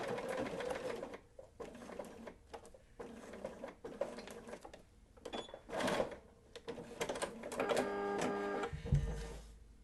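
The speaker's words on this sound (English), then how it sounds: "bring my presser foot down, and let's give her a locking stitch" A sewing machine runs a locking stitch on a quilt block in short bursts of rapid mechanical clatter with brief pauses between them, ending in a low thump.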